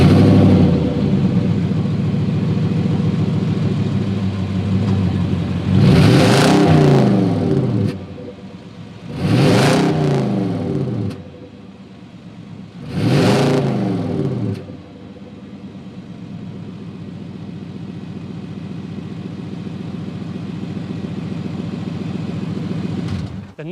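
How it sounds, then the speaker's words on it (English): A deep V8 engine in a 2021 Nissan Titan Platinum Reserve pickup idles with a rumbling exhaust, then revs hard three times in quick bursts, each roar rising and falling before settling back to idle. "the best part about V8s is hearing that exhaust note."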